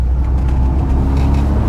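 A 1970s VW Golf GTI MK1 hatchback engine revs while driving, a loud close-up steady rumble with a drone that holds through the short stretch, no talk over it.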